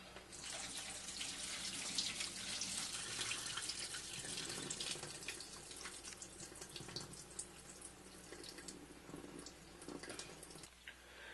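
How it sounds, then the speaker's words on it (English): Tap water runs steadily from a faucet into a pot while rice is rinsed for sushi, a continuous close splashing wash with small drips and shifts as the stream hits the grains, alone with no talking. "I forgot that we're going to rinse this rice a few times."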